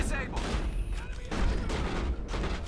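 Repeated gunfire bursts from a video game firefight, mid-level and steady with a few sharper booms, mixed with game sound effects and a voice talking over it.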